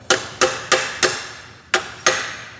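Six sharp metallic taps from a socket struck against the back of a fuel pump part during engine assembly, close and distinct, four in a quick even rhythm, then a pause and two more.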